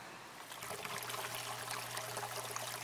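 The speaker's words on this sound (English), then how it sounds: "So pump running, water pouring in" A small aquaponics pump pouring water into a tank, a faint continuous trickle and splash over a low steady pump hum, starting just after a moment of quiet.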